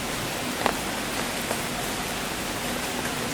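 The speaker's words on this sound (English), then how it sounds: "even with the rain and the storms and all that" Steady rain falls through the woods, a soft even hiss with a few sharper drop ticks, heard alone without voices.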